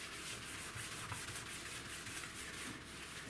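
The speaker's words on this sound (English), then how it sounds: "I'm using a Method cleaner here just to kind of get off some of this grease" Scrub Daddy Big Daddy scrubber rubbing away grease with Method cleaner, a close, continuous rough scrubbing swish with a steady back-and-forth texture and no talking.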